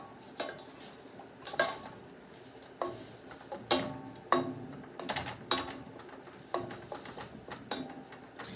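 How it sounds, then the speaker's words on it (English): A spoon stirs flour in a pot for a seafood gumbo roux, making repeated clinks and scrapes against the pot at an irregular, fairly steady pace, with no talking. "you stirring your flour over around"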